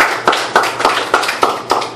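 Wedding guests clap in a quick, even rhythm, about seven sharp, loud claps in two seconds, close and clear with no talk over them.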